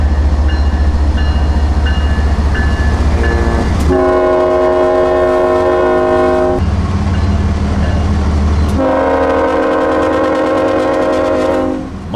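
Freight train M452 climbing a grade as it departs, with a loud, close horn sounding in several long blasts over the steady heavy rumble of the locomotive.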